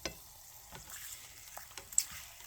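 Eggs frying over easy in a pan on a homestead stove, a quiet sizzle under a few light scraping clicks from a spatula, close and fairly soft.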